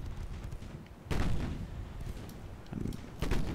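Naval guns fire at a destroyer in the Schlachtkreuzer naval warfare game, two heavy booming salvos with rumbling tails over a low background, loud and close.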